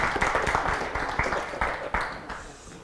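An audience at a book discussion gives a round of applause, a dense patter of many hands clapping close and fairly loud for about three seconds before tapering slightly, with no one talking over it.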